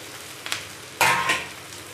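Okra tipped into a hot pan of frying onions: a low steady sizzle, a couple of light knocks, then a sudden louder burst of crackling frying as the vegetables land, settling back into a busy sizzle.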